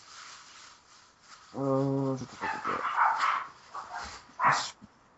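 Dogs bark in a short burst, a little way off, and a voice then speaks over a quieter background.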